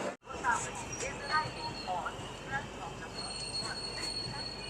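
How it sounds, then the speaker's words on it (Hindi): A passenger train arrives from the opposite direction while another train stands halted at Jajo railway station, heard faintly with distant rumble, wheel squeals and rail noise around a short break, quiet overall. "सामने से कोई ट्रेन आ रही है, ट्रेन की क्रॉसिंग हो रही है"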